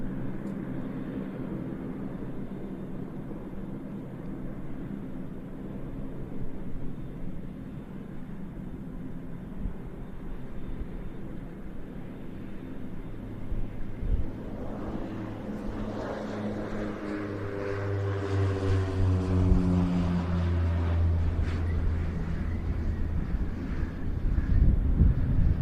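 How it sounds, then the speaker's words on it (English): A Turkish Air Force A400M turboprop transport on final approach at an airshow, a low steady drone under wind noise that swells gradually as the aircraft draws nearer, with rising propeller tones near the end. "This A400M that's now on final approach, a support aircraft for the Turkish Air Force deployment here"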